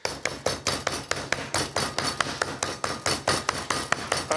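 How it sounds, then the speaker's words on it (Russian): The flat face of a meat hammer pounds pork chops in a steady rhythm of about twenty loud, close thuds spaced evenly over four seconds. "Отбиваю мясо."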